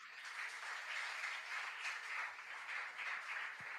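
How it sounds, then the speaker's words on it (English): Soft, distant applause for the winning school in a school quiz contest, a steady patter of many hands at low volume, even throughout with no speech over it. "Let's give them a big round of applause."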